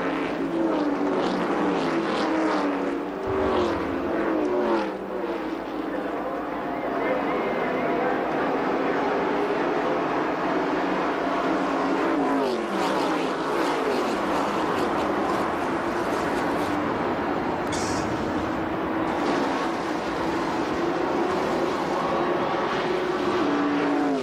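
NASCAR stock cars roar off at the start of the 1990 Daytona 500, a dense, sustained engine drone that stays loud throughout, with a commentator's voice heard over it.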